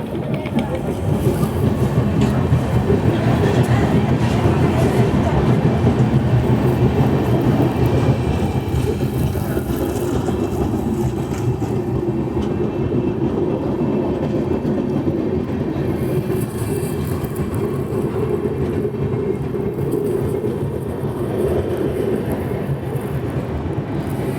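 The Visakhapatnam–Mumbai LTT Superfast Express, train 22847, runs on rails after leaving Raigarh station; a loud, continuous rumble and rattle of wheels on track carries on steadily without pause.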